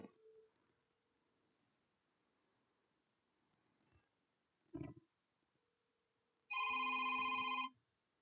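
A telephone rings once near the end, a loud electronic burst lasting about a second. It comes after a quiet stretch with a faint tone and a brief thump.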